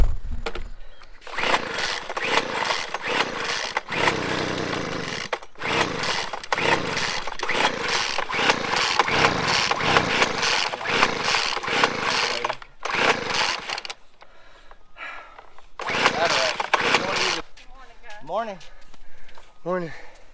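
A rebuilt pulling tractor engine, overfilled with oil, is cranked over and over in rhythmic, loud starter bursts with short pauses, never catching, while people talk nearby.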